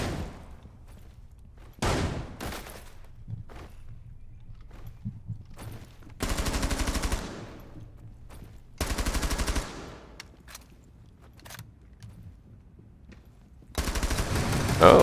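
Hip-fired automatic gunfire in Rainbow Six Siege, several loud bursts of rapid shots separated by quiet stretches with faint scattered single shots and footsteps in between.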